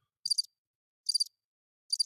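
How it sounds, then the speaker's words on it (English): Cricket chirp sound effect played by mistake on a Miami sports radio morning show: three evenly spaced bursts of rapid, high chirping separated by silence, with no talk. "I'm giving myself crickets."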